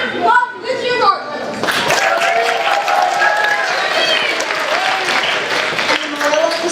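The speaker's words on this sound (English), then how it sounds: "Audience, another round of applause for this year's art." An audience at a school fables festival applauds loudly with cheering and crowd voices, opening with a brief bit of speech before the clapping fills in.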